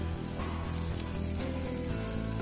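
Eggs frying in a pan for a tempered egg dish, a steady, close sizzle that stays dense and even throughout with no talking.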